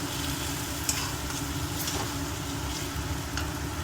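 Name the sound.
stirring sizzling meal maker masala gravy in pan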